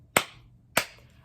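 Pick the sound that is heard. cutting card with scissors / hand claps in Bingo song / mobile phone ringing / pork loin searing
hand claps in Bingo song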